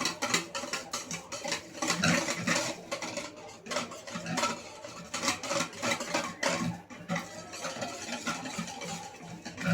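Chocolate cake batter stirred with a spoon in a bowl, a steady run of scraping, tapping and sticky mixing strokes, close and continuous throughout with no talk.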